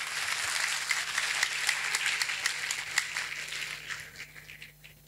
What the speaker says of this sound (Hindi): बहुत बहुत धन्यवाद, एक बार जोरदार तालियां सभी अतिथियों के लिए।